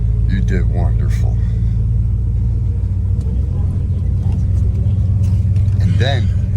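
Low rumble of a 1973 Dodge Charger's engine as it drives along steadily, loud and continuous throughout, with people talking faintly over the engine noise.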